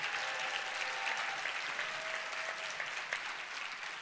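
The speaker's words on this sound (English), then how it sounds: "let's give a round of applause for people who are watching this at home" An audience gives a sustained round of applause at a motivational talk, steady dense clapping at moderate distance with no speech over it, lasting the whole stretch and tapering slightly at the end.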